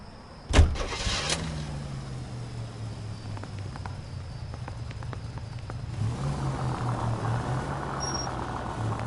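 A car engine in the video game L.A. Noire cranks and catches with a sharp start, then settles into a steady low drone as the car drives off, the engine tone lifting slightly later on, with no one talking.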